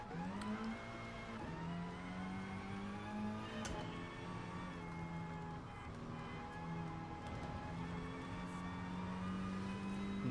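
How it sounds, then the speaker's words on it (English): A Volkswagen Scirocco Group 4 race car in the GT Sport racing game revs hard, its engine tone holding high with brief dips at gear changes, loud and continuous throughout. "we're in a Volkswagen Scirocco Group 4"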